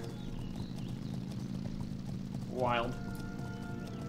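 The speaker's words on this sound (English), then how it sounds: "There's some horses" Horses in World of Warcraft make soft hoof and animal sounds beneath steady game ambience and a brief spoken word, with one short rising whinny-like call near the end.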